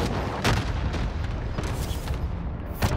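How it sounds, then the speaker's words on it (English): Cluster strike bombing run in Warzone Pacific, a rapid string of booming explosions rumbling close and loud with several sharper blasts standing out, no talk. "Incoming bombing run, thank you for that."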